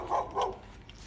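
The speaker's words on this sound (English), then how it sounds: "the neighbor's dog is out barking up a storm" Neighbor's dog barking outdoors, two quick muffled barks at a moderate distance over a low background rumble.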